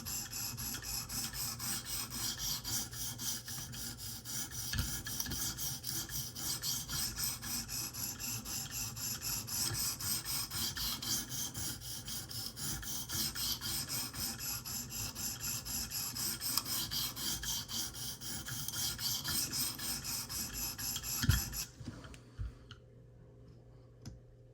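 A Smith & Wesson Extreme Ops knife is sharpened with continuous rhythmic rasping strokes of the blade against a sharpening surface, steady and close, before stopping abruptly near the end.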